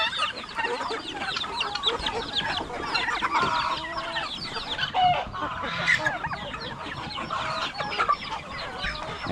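A flock of turkeys clucks and chatters continuously nearby, many birds calling over one another in a busy, overlapping din.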